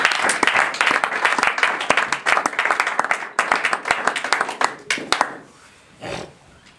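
A church congregation bursts into loud, dense applause, its sharp claps packed close together and fading out near the end, followed by a brief murmur.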